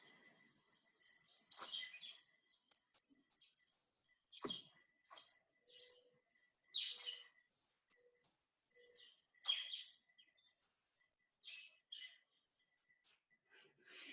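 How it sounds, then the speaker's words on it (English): Bird song in a quiet outdoor recording: a series of high, bright chirps and trills in irregular bursts, with brief pauses between phrases. "we're gonna listen to this recording and you're gonna hear a bird."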